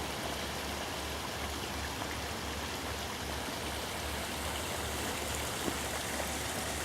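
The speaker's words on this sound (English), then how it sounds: "Pleasant little woodland waterfall there." A small woodland waterfall feeding a stream, partly frozen in winter, with a steady close rush of falling water and an unbroken hiss from start to finish and no voices.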